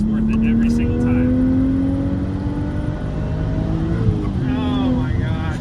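Audi B5 S4 engine pulling hard under acceleration, a loud rising drone that climbs steadily in pitch before a brief shift and climbs again, with voices talking over it inside the car.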